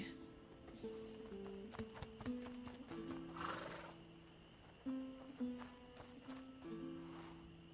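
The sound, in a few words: horse neighing in video game A Plague Tale: Innocence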